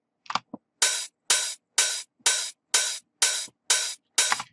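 An open hi-hat repeats eight times in an even rhythm, each hit a bright, hissy splash with a short decay, alone and close.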